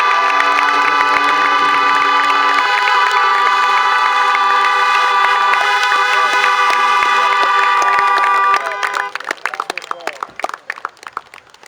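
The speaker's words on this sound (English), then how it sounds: "Could we please give a loud round of applause for Elijah Brown's family as they come out." At a high school basketball championship ring ceremony, a loud sustained musical tone fills most of the stretch, then gives way to a crowd's scattered clapping and cheering near the end.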